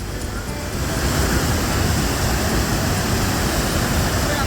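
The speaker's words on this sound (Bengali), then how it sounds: "নর্মদা নদী হুঙ্কার দিয়ে মানে গর্জন দিয়ে পড়ছে" The Narmada river pours over a waterfall in Jabalpur, a steady, dense roar of falling water that fills the scene without pause.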